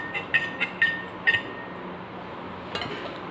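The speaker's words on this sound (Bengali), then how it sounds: "এটাকে ভালো করে আমি নাড়িয়ে নেব।" A spoon striking a glass container while a mixture with garam masala is stirred, several sharp clinks in quick succession, a pause, then one more clink, close and with no voices.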